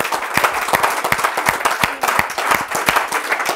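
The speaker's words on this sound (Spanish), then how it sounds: "nos da un aplauso a Cristo" Church congregation clapping in praise during a Bible prophecy teaching session, a dense, lively burst of many hands with sharp overlapping claps, loud and close, continuing steadily throughout.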